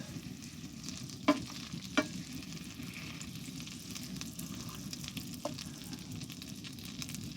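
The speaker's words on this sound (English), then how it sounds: "all I'm doing right now is browning these sausages a little bit" Sausages browning in a pan on a camp stove in a hot tent make a soft, low, continuous sizzle, punctuated by a few sharp pops and crackles, faint and without talk.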